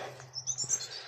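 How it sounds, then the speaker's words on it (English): A European robin sings at Rainham Marshes, a short burst of high, thin warbling notes heard at moderate distance over a low steady hum. "Yeah, it's a robin, yeah."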